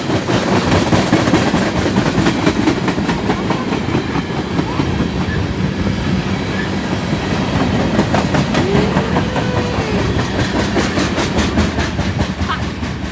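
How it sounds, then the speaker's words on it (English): A BNSF freight train rolls past on the Spokane Subdivision with a mid-train distributed power unit, loud and close, with continuous rumbling and rhythmic clickety-clack of wheels over rail joints throughout. "Legit, there's no end DPU. A mid DPU, but no end DPU."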